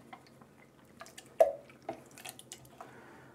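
Water running and dripping over a Rockwell R1 double-edge butterfly safety razor as it is rinsed, with soft scattered splashes, drips and a few squishy wet clicks, fairly quiet and close.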